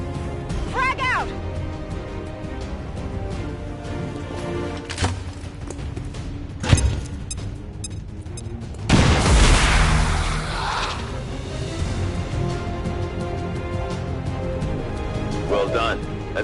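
A frag grenade goes off in XCOM 2: War of the Chosen, a heavy boom partway through followed by a long rumbling tail, set against continuous game music and effects, with voices heard in the mix.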